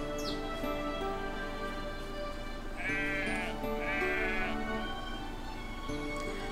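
Sheep bleat in the Everdream Valley farming game, including a black sheep in a pen, with two clear wavering calls standing out over a steady backdrop of game music and ambience.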